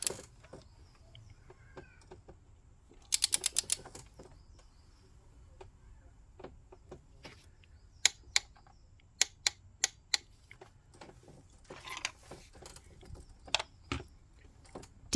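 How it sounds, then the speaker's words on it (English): Torque wrench tightening spark plugs on an Audi TT 2.0 TFSI, with sharp isolated clicks and a quick rattling burst standing out over a quiet background, close and distinct. "Tighten each plug until you hear the torque wrench click."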